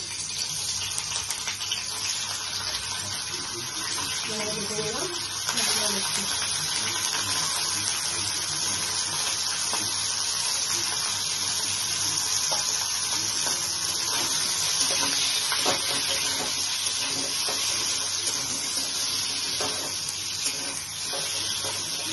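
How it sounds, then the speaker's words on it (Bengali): Paneer pieces fry in a pan for a Bengali paneer curry with tomato, giving a steady, close hiss of sizzling oil that runs unbroken throughout with no talking. "তাই পনিরগুলোকে এগুলো ফ্রাই করে নিচ্ছি একটু।"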